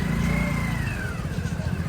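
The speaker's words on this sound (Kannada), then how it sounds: "ಈ ಬೈಕ್ ತೊಗೊಂಡು ಹೋಗ್ತಾ ಇದ್ದೀವಿ." Motorcycle carrying four riders toward Triveni Sangam in Prayagraj during the Maha Kumbh Mela 2025, a steady close engine drone with slight pitch changes and wind rush, no speech.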